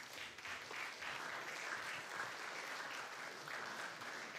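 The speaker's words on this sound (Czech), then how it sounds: "Tak ještě jednou zatleskáme do Leče." Faint, distant audience applause at a live short film festival in Pardubice, honoring a student animation from Ledeč nad Sázavou, even steady clapping throughout with a few voices in the crowd.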